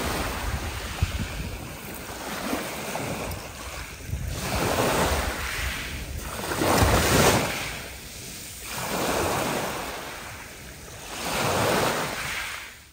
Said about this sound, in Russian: Небольшие волны.